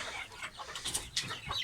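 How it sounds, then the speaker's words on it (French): Several hens cluck softly and continuously in a coop on a small poultry-breeding farm. The calls are close, short and overlapping, with no voices. "Sinon, regardez toutes les poules."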